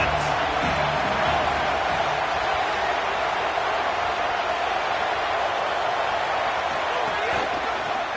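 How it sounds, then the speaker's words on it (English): A college football stadium crowd roars in a steady, dense wash of noise, loud and unbroken throughout, with a faint announcer voice beneath. "This crowd trying to make life miserable for this offense."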